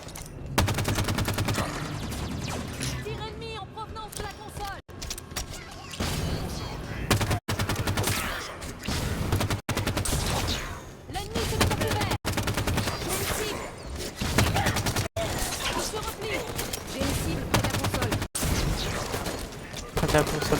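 Rapid automatic Storm rifle fire in Halo 5: Guardians, dense repeated bursts broken by brief silences across the whole stretch, with someone speaking French over the shooting.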